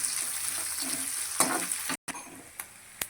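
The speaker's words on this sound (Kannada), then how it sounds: "ಇವಾಗ ಈರುಳ್ಳಿಯನ್ನು ಸೇರಿಸ್ಕೊಳ್ತಿದ್ದೇನೆ. ಇದೆಲ್ಲನೂ ಚೆನ್ನಾಗಿ ಫ್ರೈ ಆಗಬೇಕು ಎಣ್ಣೆಯಲ್ಲಿ." Onions and green chillies frying in hot oil for a ridge gourd dish, a steady close crackling sizzle with brief stirring scrapes and a short dropout midway.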